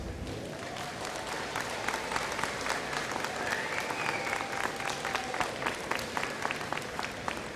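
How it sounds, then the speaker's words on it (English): A graduation audience applauds at length, a dense wash of clapping with scattered louder claps standing out, steady and fairly distant with no talk. "give them a huge round of applause"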